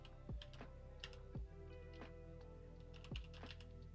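Rapid clicking of keys on a computer keyboard during a live session, with several louder thumps mixed into steady light tapping at close range, and no voices.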